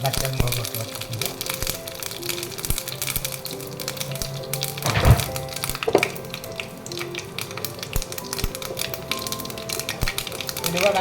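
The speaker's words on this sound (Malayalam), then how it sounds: "വെളിച്ചെണ്ണ ചൂടാകുമ്പോൾ ഞാൻ കടുക് ഇട്ട് കൊടുത്തിട്ടുണ്ട്." Mustard seeds splutter in hot coconut oil alongside dried red chillies, a dense crackling sizzle with sharp pops scattered throughout, loud and close, under a voice speaking.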